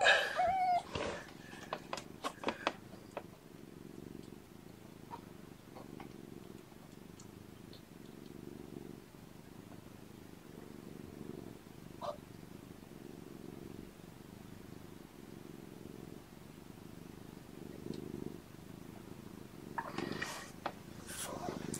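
Nursing kittens purr in a steady, low rhythmic rumble that continues close and soft for most of the stretch, with some brief scuffling noises at the start and end.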